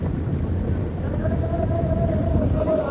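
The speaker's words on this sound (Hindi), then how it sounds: "पीछे इंजन का बहुत ज़्यादा शोर था यार" Steady, loud low rumble of a cruise boat's engine on Putrajaya lake, droning continuously with a faint higher tone running through it and wind buffeting the microphone.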